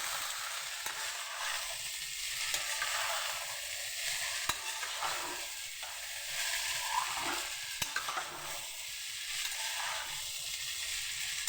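Chowmein frying in a wok, a steady hiss of sizzling oil with soft scraping stir strokes now and then, close and continuous with no voices.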